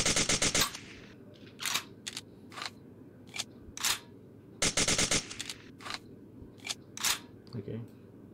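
A Sten Mark 2 submachine gun fires in short full-auto bursts, each a rapid crackle of shots, with metal clanking and clicking in the gaps between bursts.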